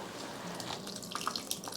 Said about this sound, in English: so I'm going to squeeze some water out so this isn't completely drenched before I start